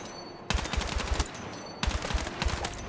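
Bursts of tap-fired gunshots in the video game Battlefield 6: two quick volleys of about half a dozen sharp, evenly spaced shots each, loud and close, separated by a short lull.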